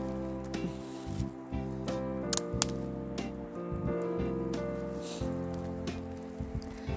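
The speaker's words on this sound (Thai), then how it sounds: "ลมแรงนะคะ ฝนก็ เดี๋ยวตกเดี๋ยวหยุดนะคะ" Rain falls outdoors on a windy day, a steady patter with scattered louder drips and taps striking nearby surfaces, and no talking.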